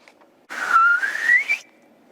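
A single sustained human whistle, clear and fairly close, rising gently in pitch over about a second before cutting off, alone against near silence.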